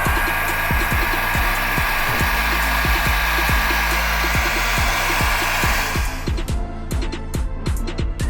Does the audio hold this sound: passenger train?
no